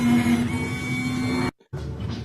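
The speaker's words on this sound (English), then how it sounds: "It literally sounds like a 1990s printer" A large battery-swapping machine whirs and buzzes like an old 1990s printer, a loud mechanical drone with a steady tonal hum that cuts out abruptly for a moment, then resumes.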